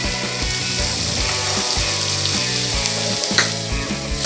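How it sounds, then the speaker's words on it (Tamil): Snake gourd sizzles loudly in a hot pan as chana dal goes in, with a dense, steady frying hiss and a rhythmic scrape and clack of stirring running through it. "நம்ம இப்போ வந்து கடலைப்பருப்பை போட்டுடலாம்"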